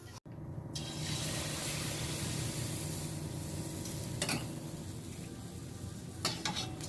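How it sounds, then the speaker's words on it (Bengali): Malpua batter made from flour and semolina fries in hot oil in a wok, giving a loud, steady sizzle that runs almost without break, with a few brief stirring scrapes. "একটা আমার মালপোয়া ভাজা হয়ে গেল এরকম করে আমি প্রত্যেক কটাই ভেজে নেব"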